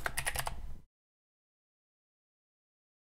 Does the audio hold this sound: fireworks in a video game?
no